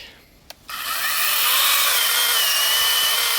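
A battery-powered Leader mini chainsaw bites into wood after a brief click, its high whine rising and then holding steady as a loud continuous cutting drone, close up with no talk.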